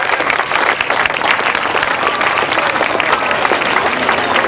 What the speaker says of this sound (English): you're all clapping well